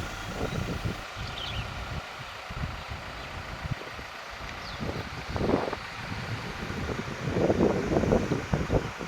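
Wind gusts through the outdoor hills of Khao Phai in Sa Kaeo, Thailand, a steady breezy rush with soft rustling that swells and eases in uneven waves, strongest toward the end.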